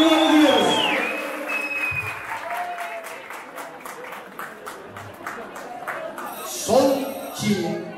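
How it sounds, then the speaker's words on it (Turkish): Wedding guests applaud for the bride's father at a Turkish wedding, a steady patter of clapping spread across the room under a host's talk, with a louder burst of cheering near the end. "Babaya kocaman bir alkış alalım"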